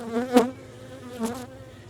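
Defensive honey bees swarm around an open hive during a fall inspection, their close buzzing droning steadily and swelling louder twice as bees pass near.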